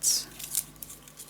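A bladed cutter slices through paper for a spooky pop-up mini album, giving a quick close scratchy swipe at the start followed by a few faint, light ticks and scrapes.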